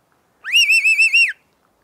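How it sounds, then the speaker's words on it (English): Birdyman bird whistle trill: one bright, warbling whistle lasting under a second, pulsing rapidly like a real birdcall, close and alone in silence. "you get the trill, which is a real bird sound."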